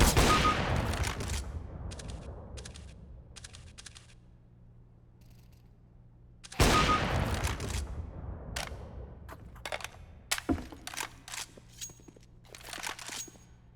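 Gunfire in the video game CS:GO comes as two loud, sudden bursts followed by sharp, scattered shots and clicks in between, close and dry, with no talk.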